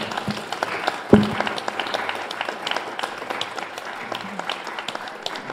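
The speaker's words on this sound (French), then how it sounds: "Je crois que vous pouvez les applaudir" Audience applause for two speakers and a moderator at a public lecture on democracy, a dense patter of many hands clapping steadily across the room with a sharp thump near the start, moderately loud and sustained.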